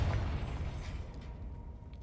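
A Confringo spell blast in Hogwarts Legacy: a single muffled, low boom that starts at once and fades into a rumbling tail, with no talk over it.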